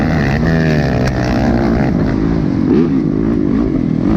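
A motorcycle engine drones loudly and steadily throughout a ride at a SORCS 2018 off-road event, with slight pitch swells and a faint rattle, close to the microphone.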